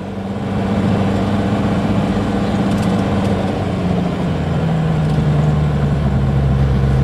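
Isuzu Panther Hi Sporty engine straining uphill in first gear on a loaded climb, a steady loud mid-pitched drone that dips slightly partway through as the revs shift, with no talking.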